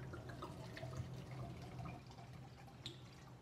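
Alcohol is poured into a drink, giving a faint, steady liquid trickle with small drips under low background noise.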